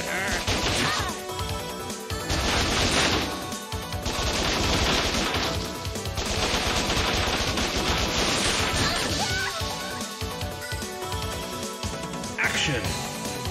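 Video game firefight with rapid bursts of gunfire and crashing impacts, loud and continuous throughout amid other game sounds and chatter.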